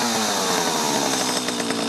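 An older Echo 330 EVL chainsaw engine idles steadily close by, a loud, even two-stroke buzz with a rapid pulsing rhythm and no voices over it.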